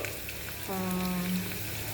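Garlic and dried red chilies fry in a pan with a steady close sizzle, joined midway by a brief humming tone.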